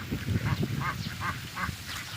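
Several nasal quacks repeat at a steady pace from a mixed-breed flock of ducks feeding on grass in the evening, close and clear over soft low rustling.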